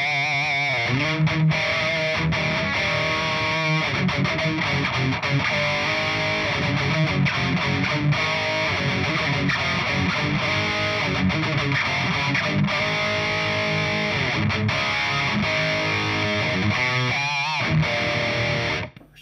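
Heavily distorted electric guitar from an EVH Wolfgang played through an Engl FireBall 25 amp with an impulse response and no cabinet, chugging dense, loud riffs continuously with no other sounds.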